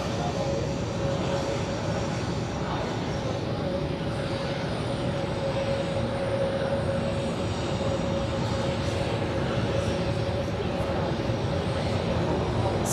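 An Austrian Airlines jet bound for Vienna at Zurich Airport, a steady distant engine roar with a faint whine, constant and unbroken under the general airport background.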